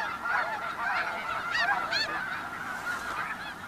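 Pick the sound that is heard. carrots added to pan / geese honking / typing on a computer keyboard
geese honking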